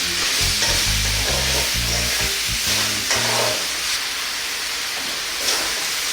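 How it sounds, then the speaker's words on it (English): Turmeric and chili powder fry and get stirred in a pan for a Sri Lankan dish. A close, continuous sizzle and hiss carries spoon scrapes, with a musical tune underneath during the first half. "We're going to stir this for just like 30 seconds or so"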